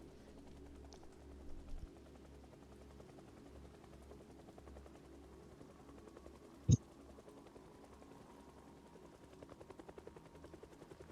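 A helicopter flies overhead in the video game Project Zomboid, a low, steady rotor thrum that persists throughout and is joined by one sharp, loud knock midway and a few faint clicks.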